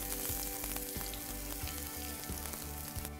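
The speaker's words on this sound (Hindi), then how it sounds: "And let it crackle, some chop ginger, some chop garlic, just give it a quick mix." Chopped ginger and garlic crackle and sizzle in a hot pan while cooking chicken curry, a dense, steady frying hiss with a low rhythmic thumping beneath, close and constant, nobody speaking.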